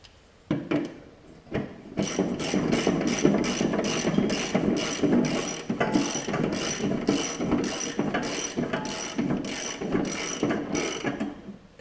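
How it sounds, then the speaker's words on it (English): A 7/8 ratchet tightens the spindle nut on a Murray riding mower deck, giving steady rapid clicking strokes in repeated bursts, close and fairly loud, with a few separate knocks at the start. "7/8 ratchet."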